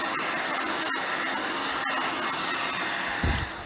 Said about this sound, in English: Okay, so I'm going to blow dry him.